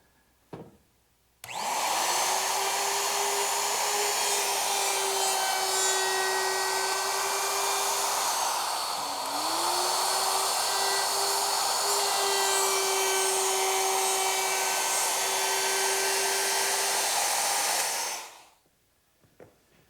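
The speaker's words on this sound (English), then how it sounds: "I've also switched to a 1/4-inch round-over bit, and it's not set to full depth. I'm just taking a little bit of these corners off." Router fitted with a 1/4-inch round-over bit set shallow, easing the corners of wooden parts for a Mission-style sofa; a steady loud whine runs alone for about sixteen seconds with a brief dip in pitch midway as it cuts.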